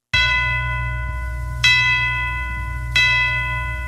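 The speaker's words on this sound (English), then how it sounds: "Bells will be ringing," Bells ring in a Christmas song played on a Saturday night radio show in Richmond, Virginia: three bright, sustained strikes roughly every second and a half, each ringing out over a steady low musical backing.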